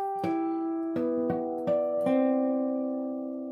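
Short melodic guitar lead: five plucked notes in a slow sequence, clear and close, ringing with harmonic overtones and letting the final note sustain and fade.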